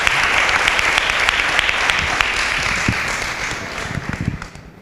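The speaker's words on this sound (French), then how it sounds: "un peu d'applaudissements pour ce monsieur" Sustained audience applause at a French youth forum welcoming a magistrate guest, dense and fairly loud clapping from a crowd that tapers off at the end.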